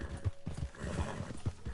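Horse hooves clip-clop in the video game Red Dead Online, a steady run of soft hoof knocks at close range with no talk over them.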